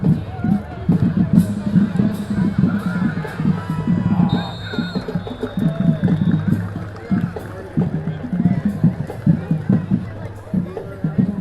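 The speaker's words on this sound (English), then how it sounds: "Excellent crowd here tonight." A crowd of Creekwood fans at a night high school football game makes a loose babble of voices and shuffling, with frequent nearby chatter rising and falling over the background.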